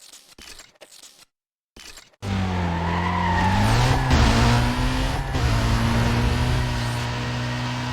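In the racing game Need for Speed Most Wanted, a car's handbrake slide produces a loud, sustained tire squeal over a roaring engine, following a few choppy bursts of game sound.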